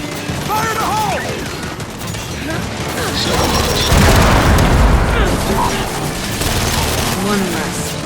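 A grenade blast and gunfire in Gears 5, with mechanical clatter and shots followed by a heavy booming explosion that swells midway, loud and dense with game voices mixed in.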